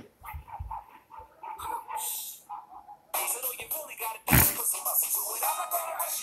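A dog whimpers and yips in short bursts, close by, with scattered voices and louder noise building in the second half.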